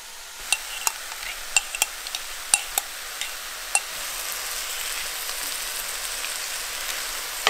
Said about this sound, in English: So far we've just got the salmon cooking, and now I'm gonna be adding a shallot and onions, and we're gonna be adding in some garlic and olive oil.